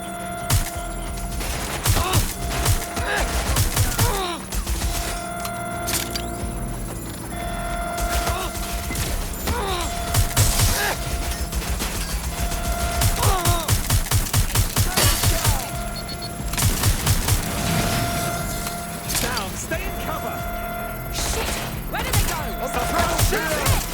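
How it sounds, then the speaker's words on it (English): Repeated gunshots and bursts of gunfire from a shooter video game, Watch Dogs: Legion, crack steadily for the whole stretch over a dense, loud game soundtrack, with occasional voices in the background. "Shots fired!"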